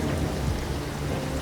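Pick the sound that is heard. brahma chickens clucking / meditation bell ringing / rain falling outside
rain falling outside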